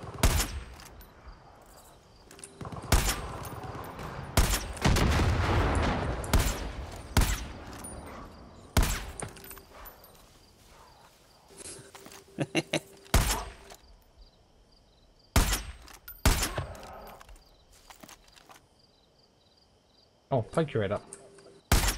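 Gunfire crackles in the Far Cry 5 video game in co-op play, with bursts of rapid shots and single loud cracks scattered through the clip, close and sharp, while people talk between the shots.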